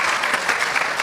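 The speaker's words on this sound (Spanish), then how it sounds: "Aplauso, Pedro, aplauso" Steady crowd applause at a church gathering where a priest debated a pastor, dense and sustained for its whole short length with no voices on top.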